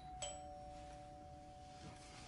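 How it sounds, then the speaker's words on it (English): A single two-tone doorbell chime rings out clearly, then fades into a quiet room with a faint steady hum. "Doorbell."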